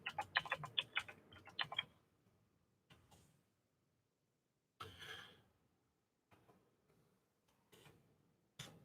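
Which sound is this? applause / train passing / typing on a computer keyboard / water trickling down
typing on a computer keyboard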